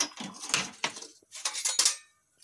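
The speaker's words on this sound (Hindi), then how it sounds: "कुकर को हम खोल देंगे" The lid of a pressure cooker is opened while cooking tomato carrot soup, giving a few sharp metallic clanks and rattles close by, with short scraping knocks in between and a brief pause near the end.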